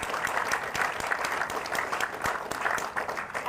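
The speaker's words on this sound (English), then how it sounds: "I think they deserve another round of applause." A crowd applauds at a Texas border wall construction kick-off event, steady and fairly close clapping that holds evenly throughout with no voices over it.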